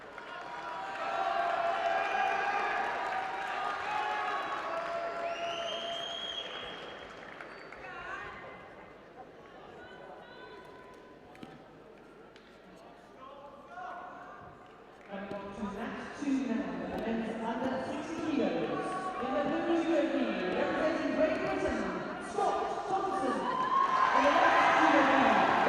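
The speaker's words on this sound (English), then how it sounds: "it's nice to hear this crowd have woken up and supporting these athletes here today" Crowd at a judo event, European Judo Open in Glasgow, breaking into cheering, applause and lively chatter; the noise swells in the second half and stays loud and close to the end, with a commentator's voice underneath.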